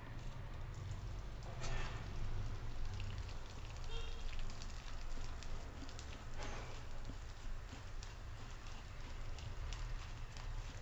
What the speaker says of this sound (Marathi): डिंक तळून घेऊ आपण आता थोडा थोडा घ्यायचा